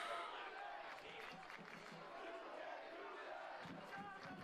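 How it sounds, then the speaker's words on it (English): A high school football crowd at a Thanksgiving Day game between Westerly and Stonington cheers and roars in the stands, a steady, distant wash of voices beneath a commentator's talk. "And that livens the Westerly crowd."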